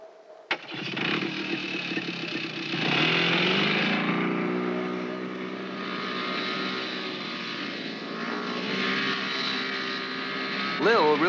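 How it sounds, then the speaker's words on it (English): A snowmobile carrying a rider across bumpy Arctic pack ice, its engine droning steadily close by with pitch shifts as it speeds up, and voices talking over the motor. "Lil really enjoys riding on a snowmobile, even if it tends to get somewhat bumpy."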